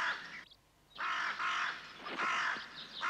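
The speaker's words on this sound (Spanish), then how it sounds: "Me estoy refiriendo a los cuervos." Crows caw in several loud, harsh calls close by, with a short gap early on and then repeated overlapping caws through to the end.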